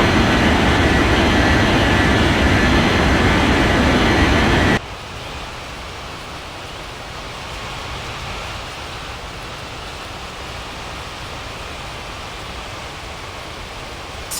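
A Malaysia Airlines Airbus A380 taking off from runway 32R (12R) at Kuala Lumpur, its jet engines giving a loud, dense roar for about five seconds before it cuts abruptly to a much quieter, steady rumble.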